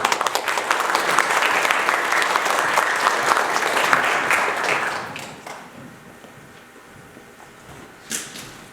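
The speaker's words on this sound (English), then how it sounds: "Please give them a round of applause." Audience applause at a community launch event fills the first five seconds with dense, loud clapping, then fades into quieter room noise with a brief knock near the end.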